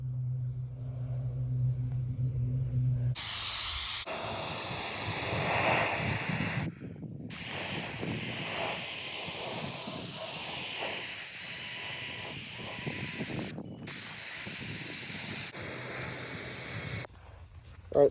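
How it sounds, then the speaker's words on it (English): Aerosol can spraying a wet coat of primer onto a Saab 9-3 fender panel, a loud, steady close hiss in long bursts with brief pauses between passes. "So I just give it a good wet coat with the reformer primer."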